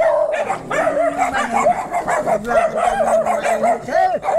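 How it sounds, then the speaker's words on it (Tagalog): Several dogs bark and yip over one another, loud and close, with whining and overlapping howls forming a continuous noisy chorus. "Masyadong marami silang aso."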